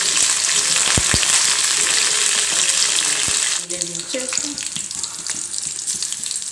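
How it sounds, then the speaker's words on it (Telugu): Curry leaves, green chillies and seasoning seeds hitting hot oil for a pachi pulusu tempering, a loud close hiss and crackle that eases after a few seconds into softer spitting and stirring. "ఇప్పుడైతే పచ్చిపులుసుకు నేను తాలింపు పెడుతున్నాను. కరివేపాకు, పచ్చిమిరపకాయలు, తాలింపు గింజలు వేసిన."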